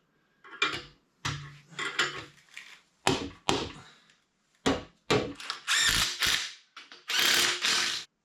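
Ratchet wrench clicking in short bursts as axle bolts are tightened on a junkyard Dana 60 axle, several quick ratcheting runs separated by brief pauses, close and fairly loud, with no voices.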